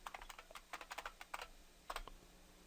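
Keys on a computer keyboard clatter as a password is typed, a quick burst of soft clicks in two short runs, faint and close with no voices.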